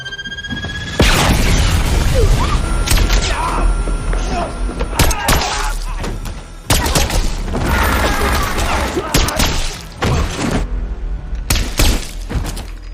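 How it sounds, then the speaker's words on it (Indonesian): A gunfight in the action film A Working Man, with bursts of loud gunshots, shattering glass and heavy thuds crashing in close succession over a tense, dense action soundtrack. "Sampai akhirnya baku tembak tidak bisa dihindari."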